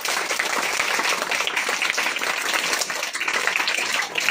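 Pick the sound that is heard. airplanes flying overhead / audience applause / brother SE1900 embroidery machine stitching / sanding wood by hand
audience applause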